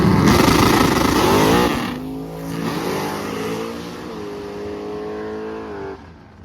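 Race vehicles roar hard at a drag strip, one loud launch followed by engines pulling away and fading into a whining, dropping drone in the distance. There is no talking.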